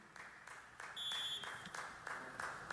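Applause rises from the public in a city council chamber, a spread of hand claps at moderate distance that swells partway through and carries on steadily without a clear break.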